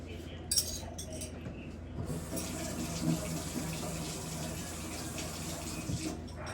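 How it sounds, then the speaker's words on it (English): Dishes and cutlery are rinsed under a running tap. Water streams steadily and close by, while metal utensils clink and rattle against plates throughout. "rinse them off"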